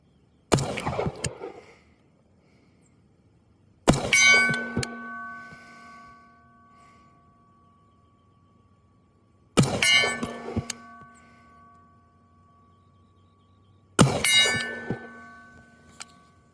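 Pistol shots, a Sig P226 or Beretta 92FS, striking a steel silhouette target 50 yards away: four separate ringing metallic clangs spaced several seconds apart, each decaying slowly, with no talking between them.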